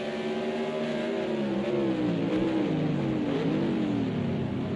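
GT1 race car engines at Donington GP circuit drone continuously with a wavering, rising and falling pitch as cars run close together. The sound is steady and fairly loud throughout, with no voices.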